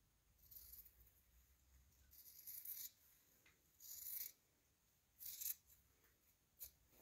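Scissors cut through fabric in several short, crisp snips and rasping strokes, close and fairly faint, separated by pauses in a quiet room.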